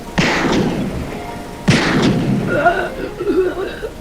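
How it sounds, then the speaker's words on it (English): Two sharp gunshots ring out in an audio drama, each a loud crack with a decaying tail, the second followed by fainter rustling. "Taking aim and firing what I intended to be warning shots."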